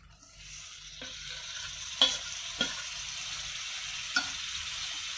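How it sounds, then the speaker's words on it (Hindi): Soybean chunks in spiced yogurt stirred in a pan over low heat, a soft steady sizzle broken by a few sharp spoon knocks against the pan, no talking. "एकदम धीमी गैस पे हम इन्हें चलाते रहेंगे ताकि दही ना फट जाए हमारी।"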